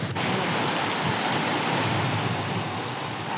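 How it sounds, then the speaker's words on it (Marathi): Heavy rain pours steadily outside, a dense, loud, continuous wash with no voices. "आणि तसंच पाऊस सुरू झाला होता आणि आत्ता पण बाहेर पाऊसच सुरू होता."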